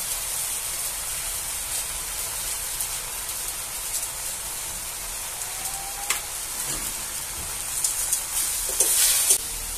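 Chopped jute leaves fry in a pan with steady, close sizzling and hissing throughout, with a few brief stirring clatters near the end.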